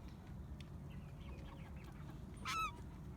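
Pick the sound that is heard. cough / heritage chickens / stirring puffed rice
heritage chickens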